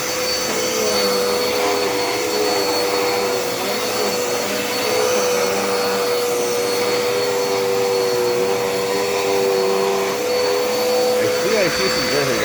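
A Dirt Devil Endura Reach vacuum cleaner runs continuously on a floor, a loud steady drone with a whining tone that holds throughout.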